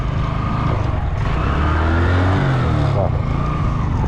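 Motorcycle engine revving hard as the throttle is opened and the clutch dumped for a burnout, holding the front brake: loud continuous close roar with rising and falling pitch.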